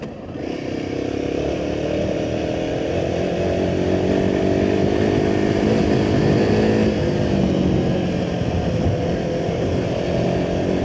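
A Royal Enfield Himalayan 450 motorcycle engine drones steadily and loud while riding over a rough, bad road, with a constant mid-rev hum and wind rumble and no talking.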